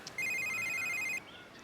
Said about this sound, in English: Dude, your phone, you gonna get that?